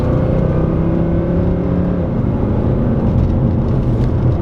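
A 2014 Mercedes C63 AMG engine drones loud and close from inside the car as it accelerates through corners, a deep continuous roar whose pitch shifts slightly with throttle, and no talking is heard.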